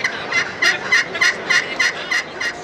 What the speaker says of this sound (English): You have a very wide, versatile range of turkey sounds.